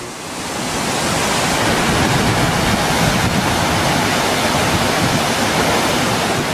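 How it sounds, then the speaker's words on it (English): Whitewater roars from Dynamite, a new Class 5 rapid on the Futaleufu River formed by a landslide, a loud, steady, broadband rush that swells up in the first second and then holds unbroken, with no voices. "This here behind me, this is the new rapid"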